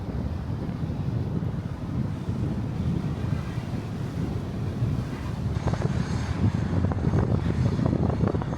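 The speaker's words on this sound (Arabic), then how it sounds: "هذا واحد من الشلالات الموجودة" A waterfall in Switzerland's Trümmelbach valley gives a steady, dense roar of rushing water with wind buffeting the microphone, continuous and moderately loud throughout with no voices.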